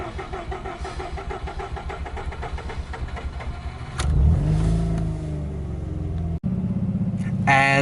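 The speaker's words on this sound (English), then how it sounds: "my car was starting like this" A Mazda RX8 rotary engine cranks on a worn starter with a steady, rapid rhythmic churn, then catches and surges louder before settling into a rough idle, with a brief dropout near the end.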